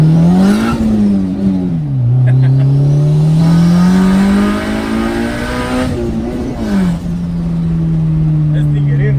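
Turbocharged Honda B18C engine fitted with a rev kit, revving hard and loud up close, with pitch rising and falling across several sweeps, some voices faintly audible underneath.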